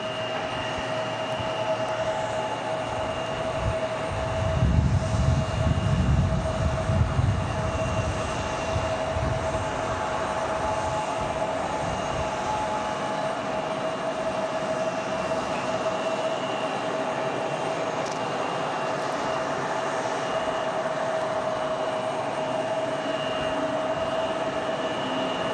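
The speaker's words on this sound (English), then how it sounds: "So I hear that A220 again." An Airbus A220 airliner at Raleigh-Durham airport hums with steady engine tones, swelling into a louder low rumble for a few seconds early on before settling back to a constant distant whine.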